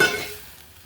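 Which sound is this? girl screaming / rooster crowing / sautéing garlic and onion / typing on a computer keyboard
sautéing garlic and onion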